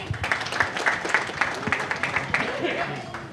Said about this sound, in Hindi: जोर की ताली दो भाई।